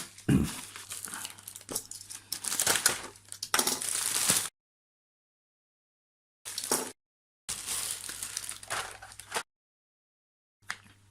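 A small package shipped from China, holding a set of mini saws and sanding tools, being unwrapped close up. Plastic wrapping crinkles and crackles in bursts, separated by silent gaps.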